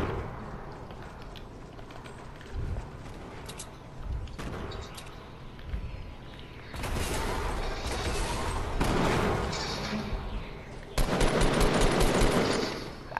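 Rapid gunfire bursts from the video game Fortnite, in a sniper arena battle royale match, crackling loud and dense in several long volleys with short gaps between them.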